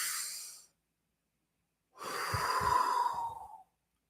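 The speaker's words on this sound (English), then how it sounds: "let's take a big breath in" A deep breath drawn in during a guided mindfulness session: after a short exhale at the start and a pause of silence, one long, close, audible inhalation runs for about a second and a half.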